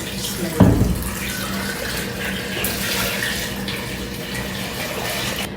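Water pours from a tap into a pot of chicken pieces with cinnamon and cloves, a brief knock at the start followed by a steady, close, hissing flow.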